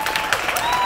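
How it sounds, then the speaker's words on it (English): A crowd at an on-stage event gives a round of applause. The clapping is dense, steady and fairly loud from start to finish, with no distinct voices above it. "let's give a big round of applause here."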